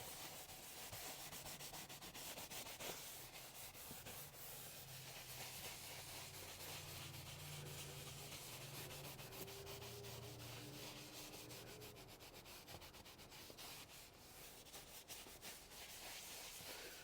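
An Autofiber Scrub Ninja pad scrubs neglected leather car seats, producing a continuous close, even rubbing and brushing hiss with light rhythmic strokes, steady throughout and without talk.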